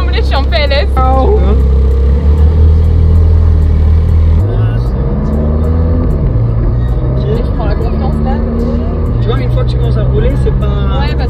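A Ferrari road car driving, a steady low engine drone under frequent excited talk from the people inside, with the engine pitch shifting as it moves off and slowly accelerates.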